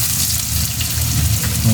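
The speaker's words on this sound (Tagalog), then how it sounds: "Igisa muna natin. Sa bawang." Garlic and onion sauté in a pan for Bicol Express, hissing in a continuous close, loud sizzle.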